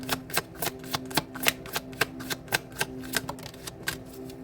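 Guidance cards being shuffled by hand, a steady run of crisp riffling taps at a brisk, fairly even rhythm, close up and alone, with no voices.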